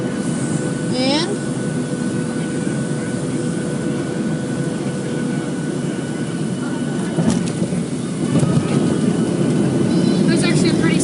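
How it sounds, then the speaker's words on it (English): A passenger airplane cabin roars with steady engine and airflow noise during landing, and a louder rumbling thump rises near the end as the wheels touch down, with faint voices in the cabin. "when we touch down, you'll feel the impact"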